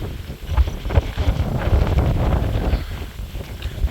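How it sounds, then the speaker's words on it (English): Wind gusting outdoors on a long-distance walk along the American Discovery Trail, a loud buffeting rumble against the microphone that rises and falls in uneven gusts, with no voices. "the wind is coming from the side and back of me"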